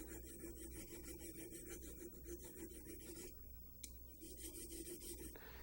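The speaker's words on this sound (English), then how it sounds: "just rub it back and forth on this fine side of the stone." A knife blade strokes back and forth across the fine side of a sharpening stone in a workshop where a horse is being carved, a soft continuous rasp repeating in even passes, fairly quiet and alone.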